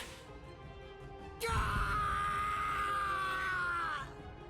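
A male character in the video game Bleach Rebirth of Souls screams in pain, a loud, sustained strained cry that starts abruptly and holds for about two and a half seconds before cutting off.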